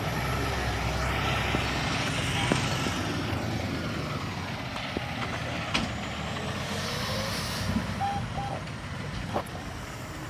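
A delivery semi truck reverses outdoors with a steady engine rumble, faint beeps and an air brake hiss heard over the idling.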